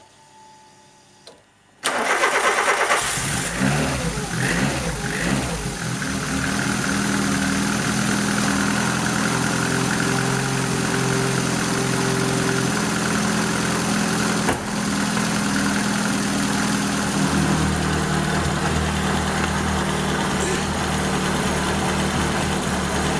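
A Peugeot 106 XSi engine, long stored in a barn, cranks and catches after a quiet start, revs briefly, then settles into a loud, steady idle rumble that continues to the end.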